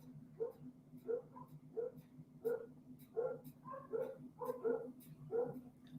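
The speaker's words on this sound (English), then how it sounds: "We got 2 dogs downstairs barking." Two dogs bark downstairs in a steady repeated pattern, about a dozen muffled barks in quick succession, sounding somewhat distant over a low background hum.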